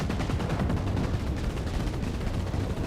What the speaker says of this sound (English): Chain guns with flat cannons.